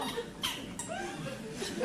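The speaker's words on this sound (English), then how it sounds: "got a bit of a squeaky chair." A squeaky chair gives a few short, faint creaking squeaks in an indoor room, with no talk over them.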